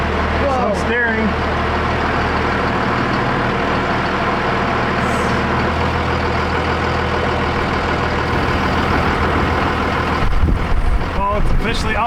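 A Cummins diesel engine in a Ford Dentside pickup rumbles close and steady as the truck pulls out onto the street, its low drone continuous with a brief burst of revving near the end and voices talking over it.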